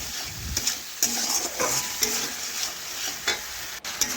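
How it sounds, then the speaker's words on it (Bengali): Spice masala sizzles in oil in a pan for a vegetarian kofta curry while a spoon scrapes and stirs it in repeated close strokes over the steady frying hiss. "ভালোভাবে মশলাটা কষিয়ে নিয়ে তেল ছেড়ে যাওয়া অবধি কষে নিতে হবে।"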